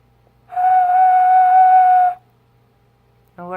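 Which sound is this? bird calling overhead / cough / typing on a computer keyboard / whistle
whistle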